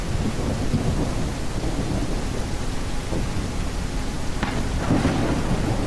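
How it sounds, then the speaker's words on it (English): A video game thunderstorm on a rainy night: steady heavy rain hiss fills the scene while low thunder rumbles and a couple of sharper cracks break through near the end. "It sounds like the storm's getting worse."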